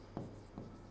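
Pen or pencil writing on paper, two short scratchy strokes close by against a steady low hum, no voices.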